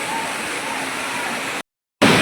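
Snowmelt water rushes steadily and close by at Yamunotri, a continuous broadband roar that cuts out briefly and then returns louder.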